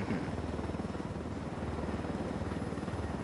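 Helicopter in the video game Ghost Recon Wildlands, a steady low rotor and engine drone holding at moderate level throughout with no talk over it.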